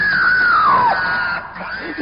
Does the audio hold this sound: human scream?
yes